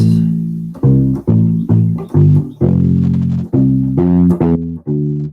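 A deep U-bass plays a steady waltz bass line of plucked low notes in a lilting three-beat pattern, clear and close with no voices.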